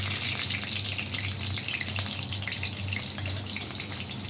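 Five-spice tempering sizzling in a pan for a mixed vegetable curry of beetroot and carrot, a continuous close crackle with scattered spitting pops, no voices.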